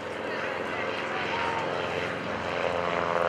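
A propeller airplane drones loudly overhead at the NAS Oceana airshow, its steady engine roar holding strong throughout as it passes close by.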